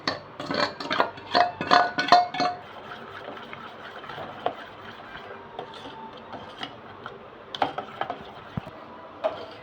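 Egg candy batter stirred in a pot for Appampattu egg candy, with clinking and scraping strokes that come thick and rhythmic at first, then continue as quieter, scattered scrapes with no talking.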